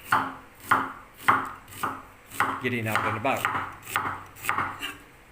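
A knife chopping onions on a board, about eight sharp evenly spaced strikes roughly every 0.6 seconds, close and clear, with a short stretch of speech in the middle.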